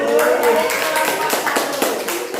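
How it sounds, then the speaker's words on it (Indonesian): A group of participants in an on-the-job learning session clap together indoors, an uneven burst of many hands that stays fairly loud and close for a couple of seconds, with some voices mixed in. "Tepuk tangan."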